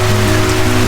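Rain falls steadily on a cot tent at a campsite, a dense, even patter close overhead with no pauses. No one speaks.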